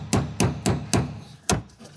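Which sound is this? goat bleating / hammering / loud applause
hammering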